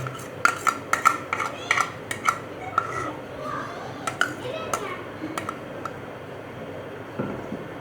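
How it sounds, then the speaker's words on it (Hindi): Chicken, mayonnaise and cabbage mixture being stirred in a pan off the heat for homemade shawarma, a series of close metallic clinks and scrapes of a spoon against the pan with soft squishing between them. "मायोनीज़, चिकन और बंद गोभी का जो मटेरियल तैयार हुआ है अब इसको मिक्स करते जाएंगे"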